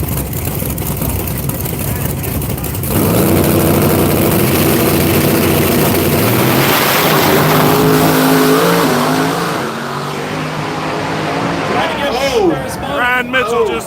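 Drag race cars launch at an outdoor track, engines roaring loud and rising in pitch as they pull away, with an announcer talking excitedly over the noise.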